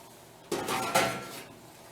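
A metal bottom water pan clanks and scrapes as it is slid out of an oven proofer, two quick knocks followed by a short rattle, close and fairly quiet.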